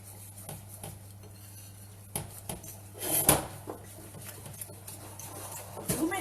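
A utensil stirs pastry cream in a bowl as hot milk is worked in, with soft scraping and clinking taps against the sides, irregular and fairly quiet.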